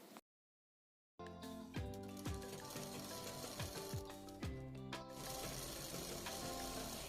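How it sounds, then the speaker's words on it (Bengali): An electric sewing machine stitching a baby Patiala suit, running in a steady whirring hum after a brief silence, with clicking and slight speed changes, close and alone without talk. "এবার চাপ সেলাইটা দিয়ে নেব।"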